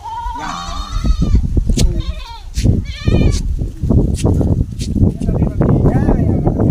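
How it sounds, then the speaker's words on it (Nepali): Goats bleating at a farm, one of two animals among livestock, with several wavering, nasal bleats near and loud over people talking throughout. "यहाँ बाख्राहरू छन् दुईवटा"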